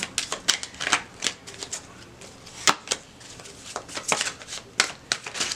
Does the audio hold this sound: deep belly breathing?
no